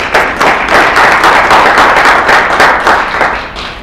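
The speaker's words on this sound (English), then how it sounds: "Let's give Leon Goodman a big round of applause." Loud, dense applause from a forum audience at a 2015 National Bar Association know-your-rights event. Steady clapping fills the room for nearly four seconds and eases slightly at the end.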